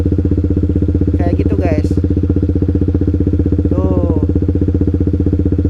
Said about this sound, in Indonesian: Nah ini setengah kupling aja nyala, maju guys. Tuh jalan, motor jalan.